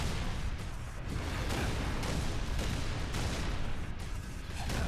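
Sustained, dense gunfire and explosive bursts from a Covenant Phantom dropship firing at the player in Halo, a continuous loud barrage with repeated thumps and no pauses.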